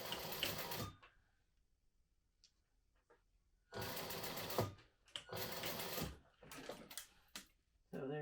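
A sewing machine stitches lines through folded webbing in short loud bursts, one near the start and several longer runs in the second half, separated by quiet pauses with faint handling noises.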